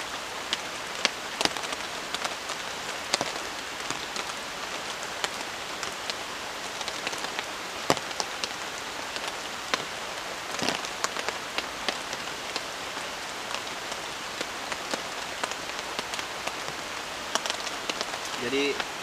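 Rain falling in a forest at a campsite, a steady patter of drops with frequent sharper nearby splats on a surface, continuous throughout.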